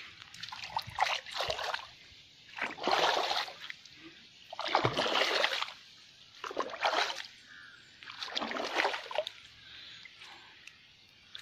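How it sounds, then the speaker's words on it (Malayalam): A fast-flowing stream splashes nearby in intermittent bursts of sloshing water, roughly one every second or two, with quieter gaps of steady trickling between them. "നല്ല ഒഴുക്കുള്ള വെള്ളമാണ്"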